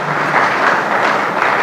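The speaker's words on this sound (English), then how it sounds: "go ahead and applaud him" Audience applause for a professor at an inaugural lecture, steady close clapping from a crowd filling the short moment.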